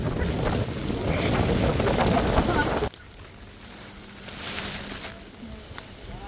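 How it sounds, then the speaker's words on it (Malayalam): Wind gusting over the river at Chemmappilly ferry landing in Thrissur during heavy rain buffets the microphone with a loud roar for about three seconds, then eases to a quieter, steady rush. "കാറ്റ്"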